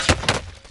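Two quick gunshots in the Warzone video game, sharp close bursts about a fifth of a second apart, followed by a fading tail with no talking.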